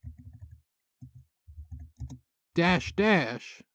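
Quick bursts of computer keyboard typing, several rapid clusters of light clicks with short pauses between, entering a command on a Windows machine, followed by a voice speaking.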